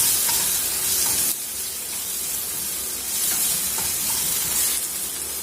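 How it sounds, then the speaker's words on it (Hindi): Peeled potatoes for a drumstick curry sizzle steadily in hot oil in a pan, a continuous close frying hiss with a brief dip and soft stirring scrapes, no voices. "अब इसको हमको गोल्डन ब्राउन होने तक थोड़ा फ्राई कर लेना है।"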